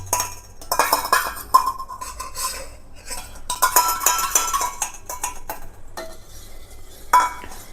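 Homemade neem liquid is poured and stirred into melted soap base in a metal pot, with clinks of a spoon against the vessel and liquid sloshing in uneven bursts, close and fairly loud, with no voices.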